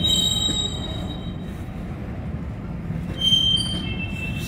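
A Norfolk Southern freight train with a CSX unit passes close by, its wagons rumbling steadily over the rails with a few high metallic wheel squeals, and no talk.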